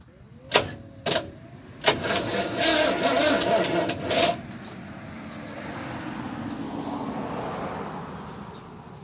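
An old Oldsmobile engine with a weak battery cranks over, first with three short separate starter bursts and then one sluggish, labouring crank of about two seconds. It stops, and quiet hiss and background noise follow.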